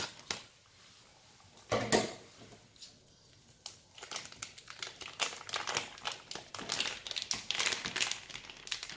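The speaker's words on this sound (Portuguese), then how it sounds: "Eu vou cortar o saco agora aqui." The plastic bag wrapping a tender ham is cut open, giving close crinkling and rustling crackles, a few sharp plastic snaps early, then a busy patter of crinkles that grows denser toward the end, with no talk.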